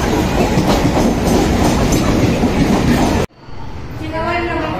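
A train rattles past a station platform, loud and close, its steady clickety-clack ending abruptly and leaving only a quieter background hum.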